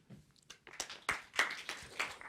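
An audience at an AI conference welcomes a speaker with sparse, fairly faint applause that builds from a few isolated claps into a loose burst.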